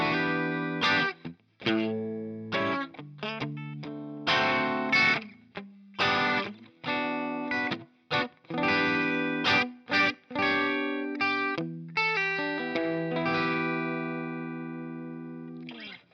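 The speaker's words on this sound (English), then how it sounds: "Bridge pickup with the coil split now." A Gibson Les Paul Classic electric guitar played through its coil-split bridge pickup gives a sequence of bright picked chords and short riffs with brief gaps, moderately loud with effects and distortion coloring the tone, no talking.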